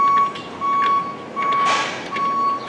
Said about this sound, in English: All the beeping going on.